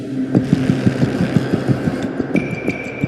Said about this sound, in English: the average mainstream AAA soundtrack today sounds like this